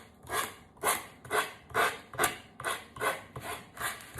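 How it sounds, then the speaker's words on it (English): A file or sanding block rasps downward along the sides of a wooden board in eight steady, evenly spaced strokes, close and alone. "I'm gonna hold the board up slightly and go downward with it. You want to file downward."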